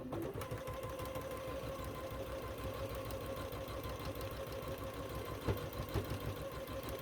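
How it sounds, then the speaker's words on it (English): A sewing machine stitches table runner pieces together, a continuous, even mechanical whirring with a rapid steady chatter, close and fairly quiet, with no talking. "I'm going to sew those together."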